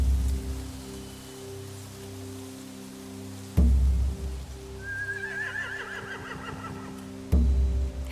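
Horses neighing in The Walking Dead: The Final Season video game, a loud whinny rising over steady rain-like ambience, with sharp impacts before and after; no speech.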